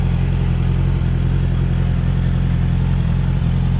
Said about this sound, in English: When I go around the corner, I'll rev it.